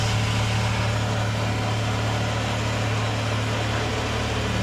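A Suzuki K6A engine in a DA64 pickup idles steadily after a fuel pump replacement, a continuous even hum with a strong low drone, close and unbroken for the whole stretch.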